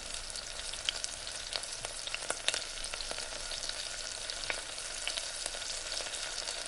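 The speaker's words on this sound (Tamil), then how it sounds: "நான் பிரியாணி கட் பண்ணி வச்சுருந்த ஆனியன்ஸு சேர்த்தாச்சு" Sliced onions for egg biryani fry in oil with a dense, continuous sizzle and crackle, broken by scattered sharp pops and light stirring. The sound stays moderately loud throughout and no one speaks.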